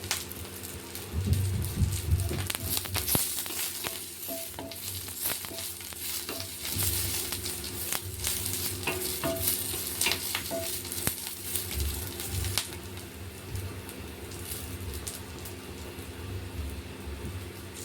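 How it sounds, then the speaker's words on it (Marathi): Green chilies, each cut into two pieces, roast in a hot pan with a steady, crackling sizzle and a few light stirring clicks throughout. "त्याच्यावरती आता मिरच्या पण भाजून घ्यायच्या।"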